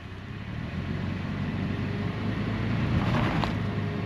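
A vehicle's engine hums low and steady while reversing gently on light throttle during an off-road recovery near Hanna, Utah, rising slightly in loudness toward the end, heard from nearby with no talking.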